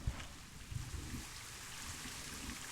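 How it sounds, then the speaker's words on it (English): Soft, steady rain falling in the video game Planet Zoo, a faint continuous patter and trickle with scattered low drips, no voices. "The rain started again."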